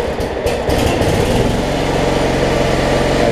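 A Cub Cadet 1320 riding mower engine cranks with a few choppy bursts, then catches and settles into a steady, loud, close running drone.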